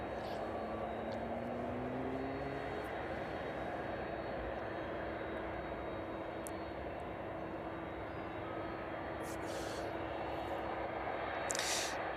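Cargo aircraft starting up and being pushed back off its stand at East Midlands Airport in the evening, a steady, distant engine whine and broad rumble with a rising tone, continuous and fairly faint.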